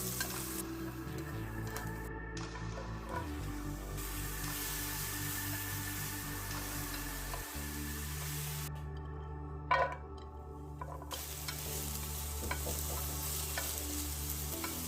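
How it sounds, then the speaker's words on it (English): Shiitake mushrooms, zucchini and carrots sizzle steadily as they are stir-fried with salt in a pan over medium-high heat. A continuous close frying hiss is broken by light stirring scrapes, with no voices. "Place the pan on medium-high heat and stir fry them with a pinch of salt."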